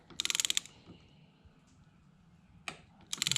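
Ratcheting clicks from a wrench tightening a bolt on a Yamaha YZ426F dirt bike engine held with a flywheel holder, two quick bursts of rapid close clicks separated by a quiet pause and a single knock.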